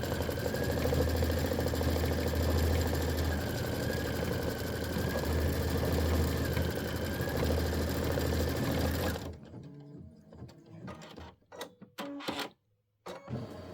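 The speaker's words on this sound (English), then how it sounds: "I'm going to top stitch it in 2 spots here on the right hand side" A sewing machine top stitching a sleeve runs in a steady, fast whirring hum for about nine seconds, close and alone, then stops, leaving quieter handling clicks and rustles.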